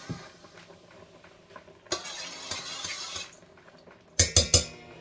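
Ketchup being stirred into water in a Ninja Foodi pot for oxtails: soft scraping and stirring, then a quick run of three sharp metallic clinks against the pot near the end.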